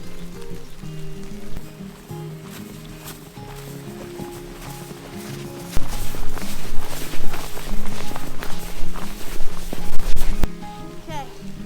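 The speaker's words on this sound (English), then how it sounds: "No, it's wet snow." Wet snow pattering on surfaces like rain, a dense crackling patter that grows louder and busier partway through, with thumping movement and some background sounds mixed in.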